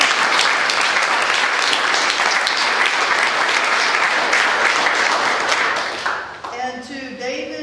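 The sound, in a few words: audience applause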